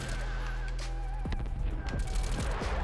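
Bullfrog submachine gun fire in Black Ops Cold War, rapid bursts of close gunshots layered over game background noise, with a voice talking throughout.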